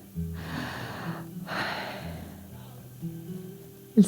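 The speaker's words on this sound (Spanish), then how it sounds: "La respiración." A person breathes audibly in a quiet room, two long airy exhales followed by softer breaths and a short sharp snort-like intake at the end.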